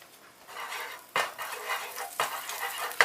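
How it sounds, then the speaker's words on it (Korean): Onions sautéing in melted butter in a pan, a steady soft sizzle broken by a few sharp scrapes of a utensil stirring, close and fairly quiet. "버터가 녹은 후에 양파를 볶아주고요"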